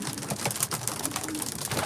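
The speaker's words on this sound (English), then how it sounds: "I know these won't be far away on Saturday because the pigeons are fit." Racing pigeons coo and stir in a loft, their soft calls repeating in a dense, busy texture close by, with faint shuffling and no speech.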